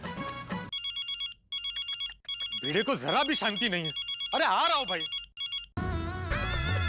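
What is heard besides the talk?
telephone ringing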